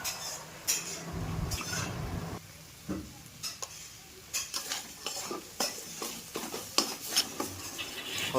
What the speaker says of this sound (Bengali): মশলাটা ভালো করে কষা চলছে।